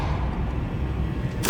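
A Depulso force spell cast in Hogwarts Legacy on PS5 lands as a short bright burst at the very end, right after a steady low rumble of game ambience.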